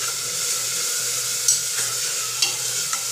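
Misal mixture with asafoetida and turmeric being stirred in a pot, a steady frying sizzle with a few brief scraping clicks of the spoon, close and alone.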